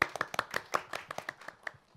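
Congregation clapping during a Korean church missionary dedication service, a quick burst of a dozen or so sharp, close claps that fade out over two seconds.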